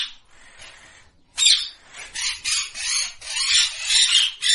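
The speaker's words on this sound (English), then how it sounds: "P for parrot." A parrot squawks in harsh, raspy bursts, one faint call followed by a run of louder, closer screeches in quick succession.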